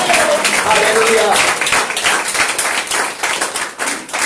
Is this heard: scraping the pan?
no